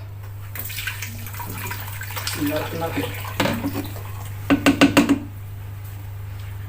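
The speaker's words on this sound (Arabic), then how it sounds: "هنا كده هفرغه في الحله" Liquid pours and splashes steadily into a cooking pot for a few seconds, followed by a quick run of knocks, with a brief spoken phrase early on.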